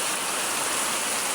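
Rain falls outside on a windy, stormy day as a dense, even rushing hiss, loud and steady for the whole short stretch.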